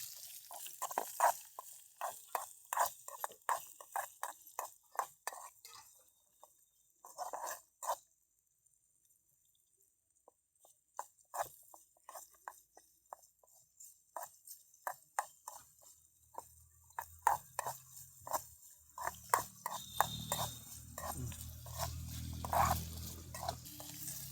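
Okra is stirred in a cooking pan, giving a steady run of close utensil taps and scrapes against the metal, with a low sizzle building toward the end and no speech.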